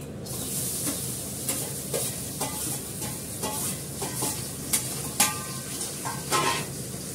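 Bottle gourd sizzling in ghee over a radhuni spice tempering: a constant close crackle and hiss with repeated clinks and scrapes from stirring.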